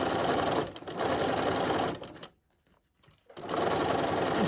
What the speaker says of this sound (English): Encasing the zipper tape is what we're doing.